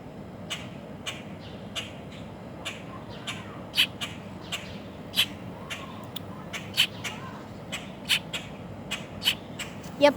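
A mother crow calls from a tree, sharp harsh caws and squawks repeating irregularly, moderately loud against a quiet outdoor background.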